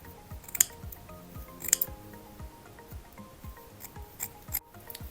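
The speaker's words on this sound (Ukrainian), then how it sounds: "Сіточку я ріжу прямо під строчку але обережно не поріжте строчку" Scissors snipping through mesh fabric while sewing underwear, cutting close beside a stitched seam; a series of quiet, short crisp snips with small rustles of the cloth, close and unhurried, with no voices.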